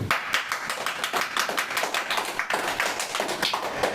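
An audience claps for the guests at the opening of a discussion with a Caribbean neurologist, a moderate patter of hands with some sharper individual claps standing out, fairly near.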